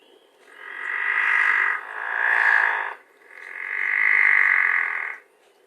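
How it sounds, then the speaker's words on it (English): Three drawn-out, low rasping pickerel frog calls with a snore-like quality, each lasting about a second or more, with brief pauses between, close and clear. "People describe the pickerel frog sound as being almost like snoring."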